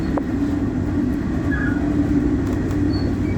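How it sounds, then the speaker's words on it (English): A train rumbles steadily past near Bungower Road by Western Port Bay, with a continuous loud low roar of wheels and carriages and faint brief squeals above it, close by and without talking. "Don't mind filming a train from here."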